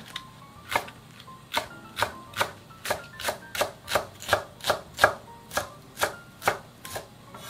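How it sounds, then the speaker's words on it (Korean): Green onion and chili peppers being chopped with a knife for a cold bean sprout soup, about fifteen evenly spaced, crisp knife thuds on a cutting board in a steady rhythm, quiet and with no talking. "대파는 반으로 가른 후에 좀 작게 이렇게 썰어주세요."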